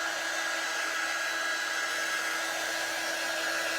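A heat tool blows steadily on a paper craft piece, drying the bottom couple of rows with a continuous loud whirring hiss. It runs unbroken throughout, close and alone, with no talking.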